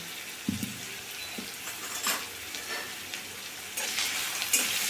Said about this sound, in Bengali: খুব ছোট্ট করে কাটা আলুটা তাই এক্ষুনি ভাজা হয়ে যাবে আর আমি এটাকে লো ফ্লেমেই কিন্তু ভেজে নিচ্ছি